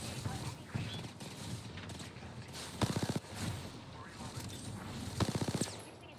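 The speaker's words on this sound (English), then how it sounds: "Whoa, they're shooting at me." Automatic gunfire from the video game Apex Legends, with two sharp rapid bursts of several rounds each, plus scattered shots over a busy background of game sounds.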